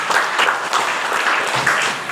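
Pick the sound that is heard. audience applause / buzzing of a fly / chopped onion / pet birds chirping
audience applause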